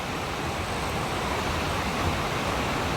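Sawatsada waterfall in Chiplun, a dense, continuous roar of falling water, loud and unbroken from start to finish with no voices.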